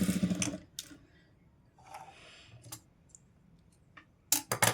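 A sewing machine stitches a blouse side seam at a tailoring marking, running in short bursts separated by pauses, with sharp clicks and a louder final flurry near the end; no one speaks.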